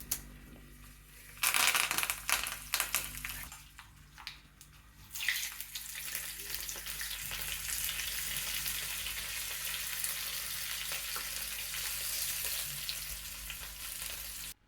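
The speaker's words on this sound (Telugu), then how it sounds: "టీ స్పూను ఆవాలు వేస్తున్నాను. పావు టీ స్పూను మెంతులు వేస్తున్నాను. 3 ఎండుమిరపకాయలు వేసాను. 2 రెమ్మల కరివేపాకు వేస్తున్నాను." Mustard seeds, fenugreek, dry red chillies and curry leaves are sizzling in hot oil for a Kerala-style cucumber curry, with loud crackling bursts early on settling into a steady, close frying hiss with no talking.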